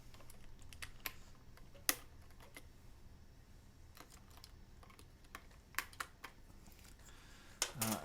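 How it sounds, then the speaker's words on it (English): Keycaps being tested on a custom TKL mechanical keyboard from 1upkeyboards, including a large shift key: sparse, irregular key clacks over a quiet background, with a few sharper, louder strikes near the end. "I just want to test and make sure that the keycaps are fitting and working on those stabilizers"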